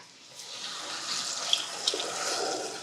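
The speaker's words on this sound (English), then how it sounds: "And we're gonna be using some water." Water pours into a pot of rice, a steady close stream that swells after a faint start and runs continuously, with a couple of small splashy accents and no talk.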